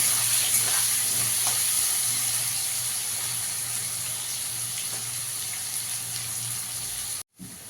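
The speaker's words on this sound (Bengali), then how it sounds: "লাল করে আলুটাকে একটু ভেজে নেবো আগে।" Potatoes fry in a pan with a steady, fairly quiet sizzle and a hiss, with occasional faint taps, before the sound cuts out abruptly near the end.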